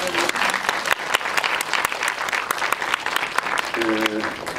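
A cinema audience at a film guest-visit Q&A in Lotte Cinema Sillim hall 3 claps steadily throughout, dense clapping with a voice briefly rising over it near the end.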